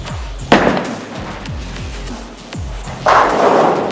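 A bowling ball rolled wrong-footed with a two-handed delivery, a Storm Pitch Black or Purple Hammer urethane ball, crashes loudly into the pins after several deep rolling thumps, with noisy clatter near the end.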